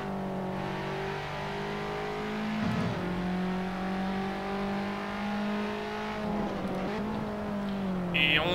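A Formula 1 racing car in a video game, running with a broken front wing, drones loudly at high revs, its engine pitch dropping sharply twice as it brakes and shifts down, then climbing again.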